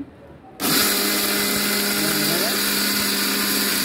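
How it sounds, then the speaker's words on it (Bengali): Crisp-roasted whole spices, including bay leaves and cinnamon, are ground in an electric blender that starts abruptly after a quiet moment and then whirs loudly and steadily at close range. "আমি এখন এই সবগুলো একসাথে দিয়ে ব্লেন্ডার করে নিচ্ছি"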